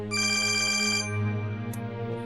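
A telephone rings in a domestic drama scene, a steady electronic ringtone with a bright, insistent tone that holds loud and near for about a second, then drops back under a low tonal background.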